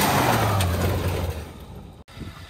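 A 4x4 side-by-side launches in sport mode with two-wheel drive, its engine roaring loudly at first, then quickly fading into the distance and leaving quieter rustling and a faint trailing rumble.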